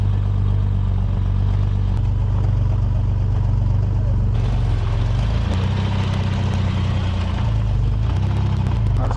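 At an outdoor car meet in the UK, a Ford Capri engine idles just after starting, giving a deep, steady rumble with a few revs. Crowd chatter and nearby voices run underneath it.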